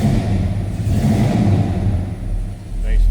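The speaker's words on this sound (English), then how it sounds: "There's that big block fired up." Big-block V8 in a 1964 Chevrolet Chevelle Malibu SS, idling with a deep, loud, close rumble after a cold start and rising briefly on the throttle, while someone talks over it.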